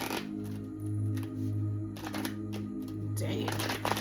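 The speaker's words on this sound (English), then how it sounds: "Oh, one more shuffle." Tarot cards being shuffled by hand at close range: a series of soft, papery riffling bursts in quick succession, clear and near, with no speech over them.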